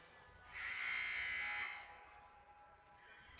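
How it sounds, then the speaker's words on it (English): A single sustained electronic buzzer blares for about a second over quiet ambience in a college men's basketball arena, then fades. "The buzzer sounds, and both teams will head back to the court."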